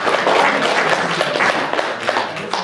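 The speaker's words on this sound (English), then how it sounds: "Clap for her." An audience claps for an elderly woman who completed a 26-mile run, a dense, steady burst of applause from a room of people that carries on for a couple of seconds.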